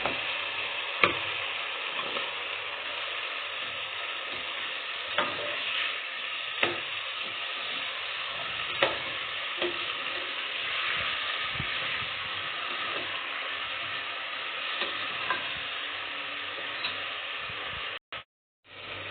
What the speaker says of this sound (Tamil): தக்காளி வதங்கிருச்சு